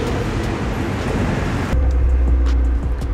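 A 2013 Fiat 500 Abarth Esseesse with a small 1.4-litre turbocharged engine on the road, a loud rough rush of engine and road noise that shifts abruptly into a lower steady drone with faint rhythmic thumps.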